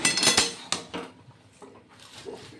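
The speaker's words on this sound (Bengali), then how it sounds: "নাড়াচাড়া করে এবার ঢেকে দেব।" A spoon clinks and scrapes against a metal pot while pumpkin greens are stirred in a village kitchen in Bengal, several sharp knocks early on, then quieter scraping, with no talk.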